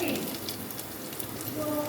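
Capsicum and other vegetables hiss and sizzle steadily in hot oil for a chicken veggie stir fry, a continuous close crackle at moderate level throughout.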